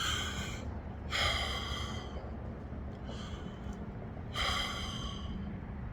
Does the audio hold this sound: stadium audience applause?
no